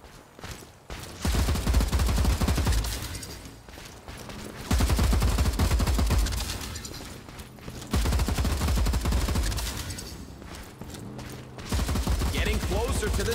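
Turret gunfire in the video game Showgunners, several long sustained bursts of rapid automatic fire, each lasting a few seconds with short lulls between, loud and close.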